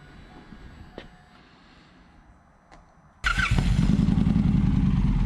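An Indian Pursuit motorcycle with a Toce Performance exhaust sits quiet under faint background noise, then fires up abruptly about three seconds in and settles into a loud, deep, rumbling idle close by.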